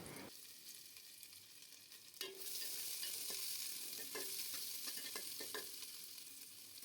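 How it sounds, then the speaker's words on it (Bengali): Chopped onions hitting hot mustard oil in a pot, a soft start that jumps into a steady crackling sizzle, broken by occasional utensil taps while stirring, with no one speaking. "সর্ষে তেলটা গরম হয়ে গেলে ওখানে দিয়ে দিতে হবে পেঁয়াজ"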